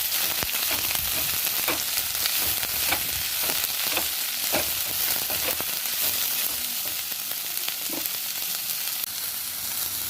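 Julienned carrot strips sauté in a pan for homemade veg spring rolls, giving a steady close sizzle with scattered crackles and occasional scraping stirs across the whole stretch, no voices.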